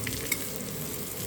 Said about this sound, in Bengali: পপকর্ন করে নিচ্ছি